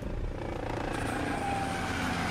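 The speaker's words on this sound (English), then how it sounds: "This is a helicopter." A helicopter in the trailer for Law Abiding Citizen, a loud, continuous, steady rotor and engine roar filling the whole moment.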